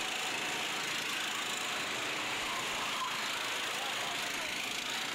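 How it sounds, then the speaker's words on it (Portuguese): Racing kart engine in a kart race, accelerating down the track with a steady, continuous mid-pitched drone that holds at moderate distance, with a race commentator speaking over it. "bota a potência no seu kart número 13"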